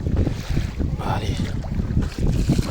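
Steady gusting wind over open water at Lake Salagou in the evening, a loud continuous rush buffeting the microphone with low rumbling and no voices.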